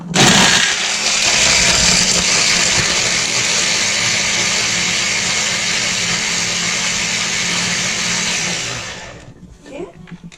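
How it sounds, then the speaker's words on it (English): An electric blender whirs loudly and steadily, blending a whole bulb of garlic with chopped green chilies for about nine seconds before winding down and stopping. "Blend them up."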